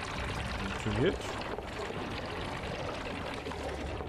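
Brief pouring splash of water from a water production station in the survival game Homeseek, heard around the middle under steady ambient noise while someone talks.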